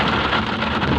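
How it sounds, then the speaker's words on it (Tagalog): Heavy rain pours down steadily and loudly during a trip in Caloocan West, a dense, unbroken wash of drops close by with no pauses or talk. "Kasi sobrang lakas ng ulan."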